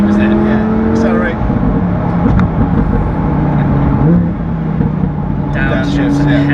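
A supercharged Lamborghini Huracan engine revs hard and accelerates with a steady high supercharger whine over its roar, loud and close, with some voices talking underneath.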